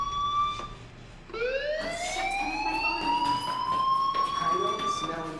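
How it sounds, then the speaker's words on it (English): A rising electronic fire-alarm siren wails steadily and loudly inside the Life Is Strange game, sweeping upward and holding over ambient game sound. "that fire alarm? That means you should be outside."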